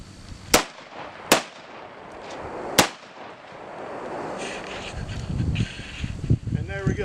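Three sharp, loud handgun shots spaced about a second apart during a beginner self-defense drill outdoors, each a crisp crack, followed by rustling and a person speaking.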